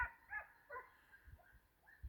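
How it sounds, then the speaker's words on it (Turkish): Two or three dogs bark and whimper faintly in the distance, a few scattered yips and woofs spread over a couple of seconds. "Köpeklerin sesini duyuyorsunuzdur galiba."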